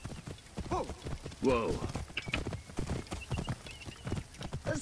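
A horse gallops in the video game Assassin's Creed Origins, with rapid, fairly quiet hoofbeats pattering throughout. Brief exclamations from a voice come over the hooves.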